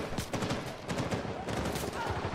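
Dense gunfire from an online multiplayer match of Uncharted 4, rapid overlapping bursts of shots crackling without pause throughout, loud and close, with a faint voice briefly underneath.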